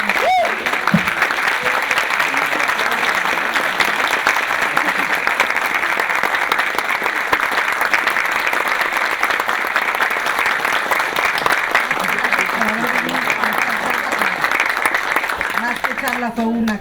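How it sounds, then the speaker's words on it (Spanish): An audience at a film talk with director Natalia Beristain breaks into sustained applause, a dense, even wash of clapping lasting the whole stretch, with a voice speaking faintly near the start and end. "Un aplauso, por favor."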